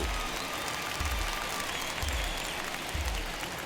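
A baseball crowd claps and cheers steadily at the White Sox ballpark on the South Side during a Yankees at White Sox game, a dense, continuous wash of applause from a large stands audience.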